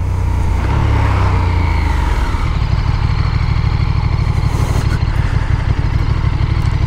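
KTM SuperDuke 1290 motorcycle engine under riding, a loud steady throbbing drone that shifts in pitch early on before settling into a constant rumble, mixed with wind buffeting and no talking.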